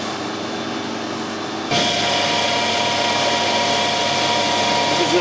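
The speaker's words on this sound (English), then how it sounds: "I'll turn this end down to 6mm and put some threads on there." A lathe turns a small steel shaft salvaged from a skip, cutting it down to 6mm for threading; a quieter hum steps up abruptly into a loud, steady machining whine that holds to the end.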